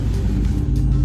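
Steady low engine hum and road rumble from inside a moving car on the way to a library, continuous and even for about a second with no talk.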